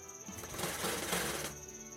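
A sewing machine stitches the back of a blouse with a dense, steady mechanical whir that swells in the middle of the run and then settles back to a lower hum.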